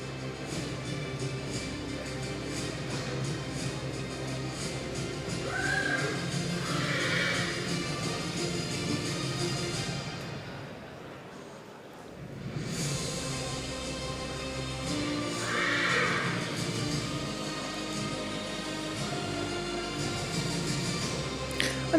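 Excited young stallions neighing and whinnying in an indoor arena during a stallion inspection viewing, with repeated whinnies rising from moderate distance over a steady background murmur and no talk.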